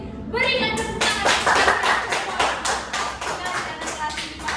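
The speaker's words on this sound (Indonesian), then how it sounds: "Berikan tepuk tangan." A class of fifth-grade pupils clap their hands together in a steady, rhythmic burst of claps that fills the room, following a brief moment of voices at the start.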